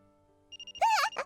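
A mobile phone rings in the video game Clover Day's: four short electronic beeps, then a louder, melodic ringtone phrase, clear and alone.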